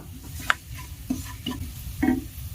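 Spices, chopped ginger and green chili frying in a pan with turmeric powder added, heard as soft scattered scrapes and stirs over a faint low sizzle.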